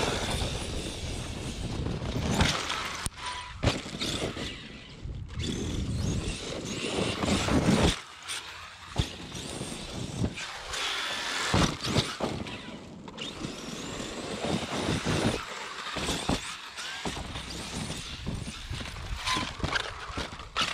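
ARRMA Kraton 8S RC car running on Proline Masher X belted tires outdoors, a loud sustained motor whine with rough crunching and rattling bursts as it tears over ground, surging and easing across the clip.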